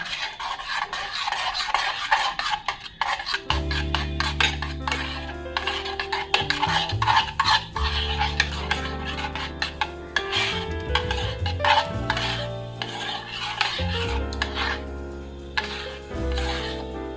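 Baby food for an eight-month-old being stirred and mixed in a pot, with steady scraping and rubbing strokes of a spoon, close and fairly loud, with soft background music over much of it and no talking.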